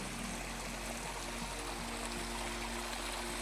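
Irrigation water runs steadily from a pipe with spaced outlets into a sugarcane field, a continuous rushing, gurgling flow heard up close with no talk.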